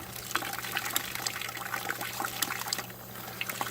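Water from a homemade ram pump trickles and splashes into a rain barrel, a continuous, busy stream of close liquid patter with no voices.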